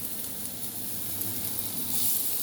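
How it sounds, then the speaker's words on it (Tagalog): Garlic fries in a little oil with a steady, bright sizzling hiss, close and continuous, growing slightly louder toward the end with no one talking. "fry all the remaining ingredients. Bit oil again, just a little. And then, garlic."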